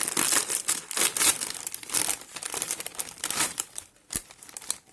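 A crinkly plastic bag of spicy chips is torn open and handled close up, giving bursts of sharp crackling and rustling in an uneven rhythm, with no speech.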